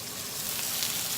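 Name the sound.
tomatoes sizzling as they are flipped in a pan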